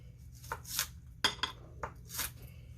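A knife chops through an onion in a home kitchen: a handful of crisp, irregular cuts with light clinks against the board, close and fairly quiet.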